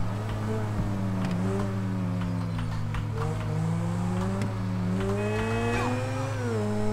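In Grand Theft Auto V on PC, a car engine drones steadily, its pitch rising and falling as the revs change, with faint tire and road noise and no talk.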